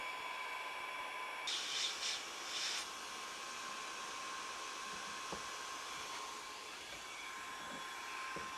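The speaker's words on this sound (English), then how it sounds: "Just a little bit of heat from the heat gun here." A heat gun blows a steady, moderately loud stream of hot air throughout, part of a metal shop job on cast and machined step pulleys, with a few brief louder rustling bursts early on.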